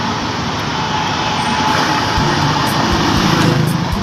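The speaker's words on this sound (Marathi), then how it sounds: "ही बघा एक एक्सप्रेस" An express train runs close by near Talegaon Dabhade station, heading toward Lonavala, as a loud, steady rumbling roar with rattling that holds constant throughout.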